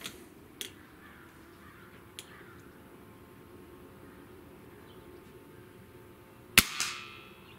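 A Hatsan Mod 65 air rifle fires at a shotgun shell target, one sharp loud crack near the end after a few faint clicks over quiet outdoor background.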